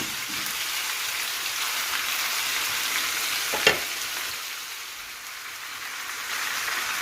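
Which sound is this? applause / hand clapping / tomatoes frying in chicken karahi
tomatoes frying in chicken karahi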